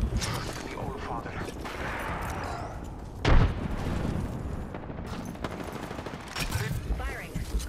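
Gunfire in a video game, a continuous rattle of shots with one heavier boom standing out partway through, dense and fairly close throughout.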